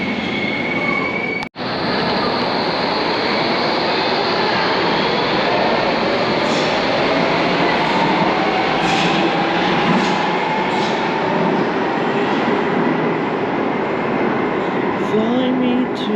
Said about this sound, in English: Oh, we got a train for Stratford